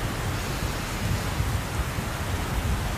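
Steady rain in the DCS World flight simulator during a carrier landing competition, a dense, even hiss of falling drops with a low rumble beneath, continuous and fairly loud throughout with no talk.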